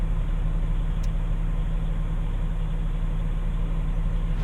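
An 80,000 lb trencher working at a wind farm near the Mexican border runs its engine at a steady, loud, low rumble as the machine tilts, with one brief click partway through.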